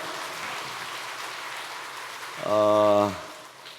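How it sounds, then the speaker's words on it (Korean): A church congregation at an afternoon worship service claps in encouragement, a soft, rain-like patter of many hands that runs steadily before a brief sustained tone cuts across near the end. "다시 한번 박수로 격려해 주시기 바랍니다."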